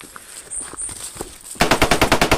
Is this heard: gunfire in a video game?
yes